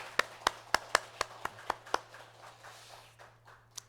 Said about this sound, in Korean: 우리 다시 한 번 더 축복의 박수 한번 쳐드리겠습니다